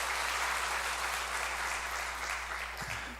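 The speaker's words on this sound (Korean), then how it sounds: "박수 주십시오." A congregation claps through a Sunday morning church service, a steady, even roar of many hands at moderate distance over a low electrical hum, easing slightly toward the end.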